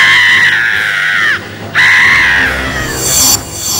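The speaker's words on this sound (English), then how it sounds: "Taraka's screams filled the forest." Taraka the demoness lets out loud, shrill, wavering screams as an arrow strikes her heart in a forest: two long cries separated by a short pause, then a fainter, thinner wail.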